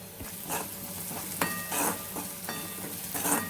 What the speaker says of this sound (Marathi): त्याला आता आपण चांगलं परतून घेऊया